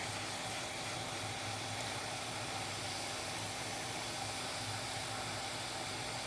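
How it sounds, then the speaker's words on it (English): A heat gun blows hot air onto heat shrink tubing, a continuous, even whooshing roar with no pauses and no voices. "heat shrink is centered, and we're just going to start heating her up"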